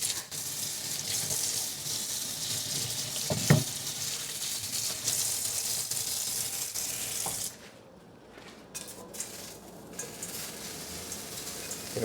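A kitchen tap runs steadily as an onion is rinsed under it, a continuous splashing hiss with a few sharper knocks. The stream drops off late, leaving quieter dripping and trickling.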